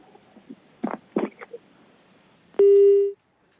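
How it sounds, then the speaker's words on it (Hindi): A telephone disconnect tone sounds after a call is cut off: one loud, steady beep lasting about half a second, following a few soft clicks and bumps on the line. "लो, फोन काट दिया।"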